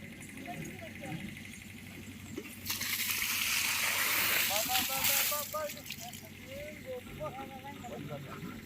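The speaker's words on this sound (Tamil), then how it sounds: "வருது தண்ணி வருது" Water rushes out in a garden with a loud, steady hissing gush that swells for a few seconds, then eases back, while people talk over it.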